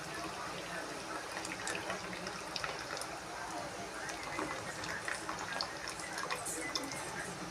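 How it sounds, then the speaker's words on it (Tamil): Tamarind water poured into a simmering egg curry on the stove, a steady close splash and trickle of liquid running for several seconds with light cooking noise underneath. "இப்போ இதெல்லாம் புளி சேர்த்துக்கலாம் புளி தண்ணி"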